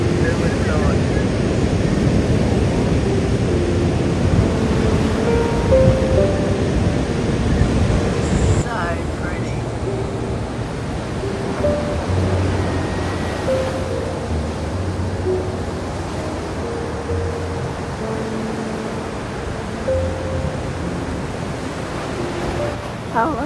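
Surf washes onto a beach at Kuta, Bali at sunset as a steady, loud broadband roar that fills the whole clip, with wind buffeting the microphone and some talk mixed in.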